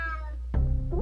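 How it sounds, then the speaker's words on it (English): Cat meowing in the video game UnMetal, one short mew followed by a louder, rising meow, close and clear against a low steady hum, with no talk. "Damn cat."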